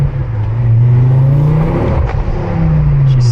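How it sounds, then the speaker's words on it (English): Turbocharged Ford Focus XR5 engine with its sound symposer removed, revving steadily and loudly up close, a sustained deep drone with a rising whir running through it and no voices. "Turbo seems to be a bit louder."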